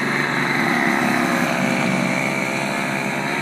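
A small, modest snow blower runs steadily during a December snowstorm, its light engine droning at constant loudness throughout with no talk over it.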